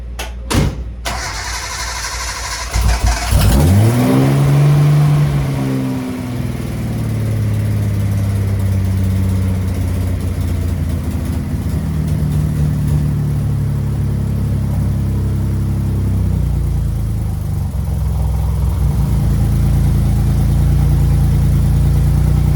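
A car engine cranks and catches after a few seconds of near silence, then settles into a steady, loud idle close by, with no talking.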